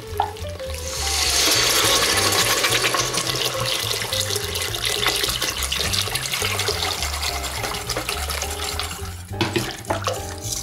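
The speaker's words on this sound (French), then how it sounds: "Maintenant, je vais ajouter 2 litres d'eau chaude." Two litres of hot water pour steadily into a cooking pot while making Tunisian melokhia, a continuous close splashing rush that runs almost the whole time, with a few clinks near the end.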